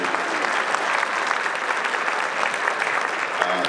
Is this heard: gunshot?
no